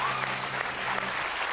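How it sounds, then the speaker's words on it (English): Audience at a comedy show bursts into a short, full round of applause, dense and close, filling the moment with steady clapping and little else. "Give him a round of applause."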